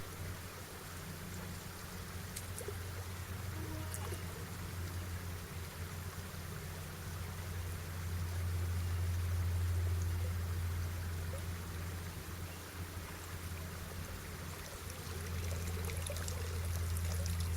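A fast-flowing river rushes continuously nearby, a steady broadband roar with a low rumble and no voices.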